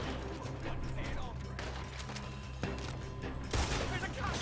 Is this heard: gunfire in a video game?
yes